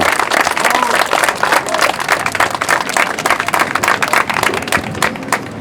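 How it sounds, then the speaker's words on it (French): Outdoors on Toulon's Place d'Armes, a large festival crowd applauds the street painting artists with loud, sustained, dense clapping, and voices are faintly mixed in. "on n'a plus qu'à les applaudir encore une fois"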